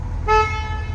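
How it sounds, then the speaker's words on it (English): A 1972 Chevrolet Chevelle with a big-block V8 sounds its car horn in one short, loud, steady toot over a low idling engine rumble. "Horn works."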